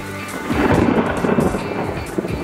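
Loud thunder rolls through a thunderstorm with rain drumming on a tin roof, a deep rumbling swell over steady dense patter, close and alone without voices.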